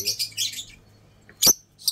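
Pet birds in a backyard aviary give quick, bright chirps in two short bursts near the start, then a single sharp chirp and a final brief tweet, fairly close with quiet gaps between.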